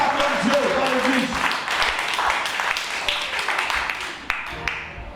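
A church congregation applauds and cheers in praise, a dense continuous wash of clapping with crowd voices mixed in, a few sharper claps standing out near the end.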